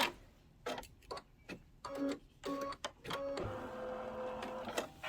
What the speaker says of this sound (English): And then we're ready to do the embroidery.